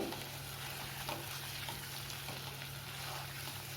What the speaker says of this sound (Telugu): ఎగ్స్, అల్లం వెల్లిగడ్డ పేస్టు, ఉల్లిగడ్డలు, మిరపకాయలు అన్నీ ఒకసారి వేగుతుంటాయి